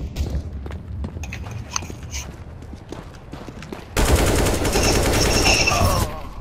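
Rapid bursts of gunfire from CS:GO, with scattered single shots giving way to a loud, sustained volley of automatic fire in the last couple of seconds, close and dense.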